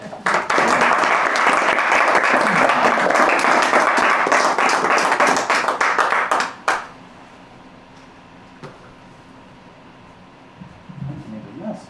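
Audience at a house concert breaks into loud, dense applause that sustains for about six and a half seconds, then cuts off abruptly to quiet room tone with faint murmurs near the end.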